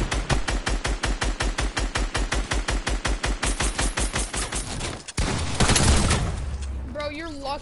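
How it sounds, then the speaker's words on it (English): A flintlock pistol fired repeatedly in a video game, a fast, even string of loud, close shots for about five seconds, then a burst of noisier game sound with a voice underneath. "this gun that I have, the flintlock pistol, is so powerful"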